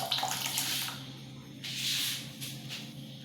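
Kaskas (poppy seed) milk is poured into a pineapple sago dessert, a soft splashing liquid stream that comes in two bursts and is faint and close, with no talking.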